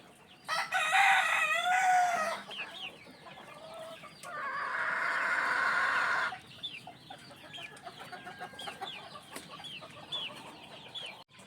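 Chickens cluck and squawk nearby, with a loud drawn-out crow and several shorter calls among steady clucking of hens in an outdoor yard.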